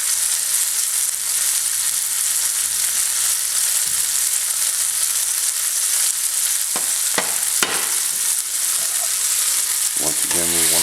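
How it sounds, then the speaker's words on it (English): Onion sauteing in a pan after pork loin has been seared in it, a steady, loud, close sizzle throughout, with a few scraping stirs near the end. "we're going to saute some onion"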